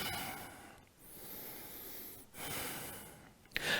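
Slow breathing during a rest in a vinyasa yoga flow, with two long, soft, airy breath cycles and a short sharp sniff or snort near the end, close and alone with no talking.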